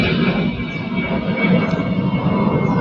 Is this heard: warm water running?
no